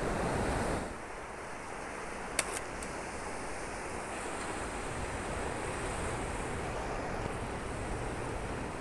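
Ocean waves roll in at Laguna Beach as a constant, broad wash of surf mixed with wind, steady and moderately loud with no voices.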